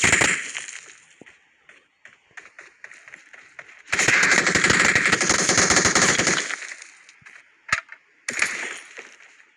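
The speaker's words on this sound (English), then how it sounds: "গুলি চলছে এদিকে ওদিক, তাই ভয় লাগছে" Gunfire in a shooter video game crackles in rapid automatic bursts, one long loud volley in the middle, scattered single shots and a few shorter bursts around it, with no talking.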